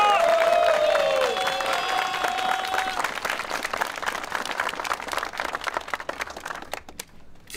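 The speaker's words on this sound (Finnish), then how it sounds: "annetaan pienet, ei vaan isot aplodit Lapinkumille ja Markolle" Crowd applause at a rally car drifting event's prize ceremony, a thick wash of clapping with some cheering that starts over a fading tone and gradually thins out, ending nearly silent.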